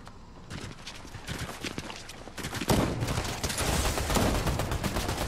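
Rapid gunfire bursts from a Fortnite match rattle in dense volleys, growing louder and busier midway, with close, sharp shots overlapping one another.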